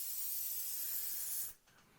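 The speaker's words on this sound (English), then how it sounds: "we're just putting that diffused spray over everything" An airbrush sprays a diffused coat of RLM65 paint onto the underside of a 1/32 Revell He111 model from about six inches away, giving a steady close hiss that stops abruptly near the end.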